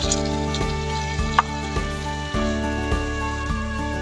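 Potato and egg curry with garam masala being stirred in a pan, a steady close sizzle with soft periodic scraping and stirring strokes throughout.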